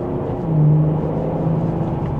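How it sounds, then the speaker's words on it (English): A 2026 BMW M440i coupe in normal drive gives a steady low engine rumble from inside the cabin, with a brief rising hum as it accelerates gently before settling back. "So let's give it one more acceleration."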